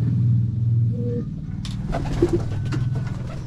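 Homing pigeons coo in a breeding loft, their low throaty calls repeating close by over a steady rumble, with a few sharp clatters and knocks partway through.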